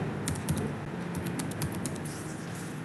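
Keystrokes tapped out on a computer keyboard while an email address is entered into a shop's login page, a steady run of light clicks that is fairly quiet and continuous, with no speech.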